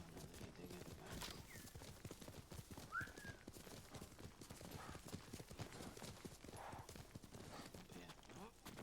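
Horse hooves clip-clop steadily in the video game Ghost of Tsushima, a soft rhythmic gallop under a constant background bed, with a brief whinny-like call and distant birdlike chirps.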